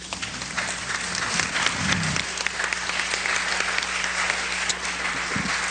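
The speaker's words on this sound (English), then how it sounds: "let's give him another round of applause" A large audience at a lecture on racism applauds steadily, giving a dense, even wash of clapping throughout.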